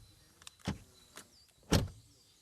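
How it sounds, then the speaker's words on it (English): Car door on a Volkswagen ID.7 electric sedan shutting, a few soft thuds and latch clicks close by, the last one firmest, with no talk. "Door closing sound."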